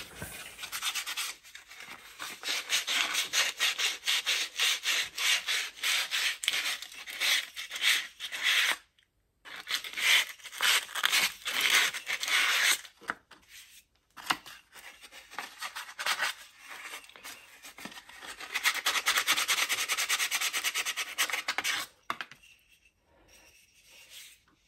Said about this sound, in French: Et finition au papier de verre à main levée.